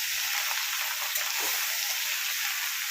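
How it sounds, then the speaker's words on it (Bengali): Bottle gourd curry being stirred and cooked in a pan, a dense continuous sizzling hiss close up, steady in level with no talk over it. "এটা ভালো করে ওপর নিচে করে নাড়িয়ে নেব"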